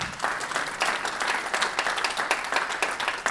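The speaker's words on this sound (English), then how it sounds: "Clap for that, Barry Castleman." An audience at an awards ceremony claps in a steady burst of applause, dense and even, with a faint voice briefly in the mix.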